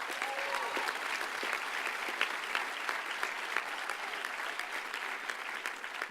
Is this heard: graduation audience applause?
yes